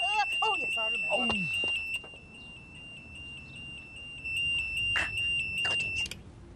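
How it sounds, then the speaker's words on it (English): A car alarm sounds as a steady high-pitched electronic tone through most of the stretch, loud and close. Voices and bursts of chirping can be heard over it. "Oh, no, the car alarm."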